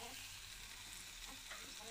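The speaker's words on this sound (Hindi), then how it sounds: "चलिए इसको फ्राई करते हैं, आप लोग देख सकते हैं कितना ज़्यादा इसमें आँच लग रहा है।" Jackfruit curry (kathal sabzi) frying in a hot pan over a high flame, a steady, close sizzle with faint stirring scrapes that continues evenly without pause.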